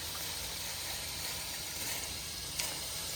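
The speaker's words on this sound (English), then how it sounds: "that's some hot steam" Hot steam hissing steadily from a vehicle engine near the drain during mobile mechanic work, a close, continuous airy hiss with a brief sharper spurt near the end.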